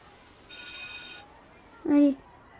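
School bell in the Avatar World video game, a bright electronic ringing lasting under a second, followed shortly by a brief tonal chime or voice-like blip, close and clear.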